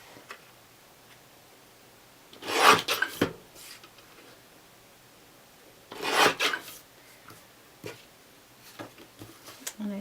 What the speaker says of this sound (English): I will cut up my photo as well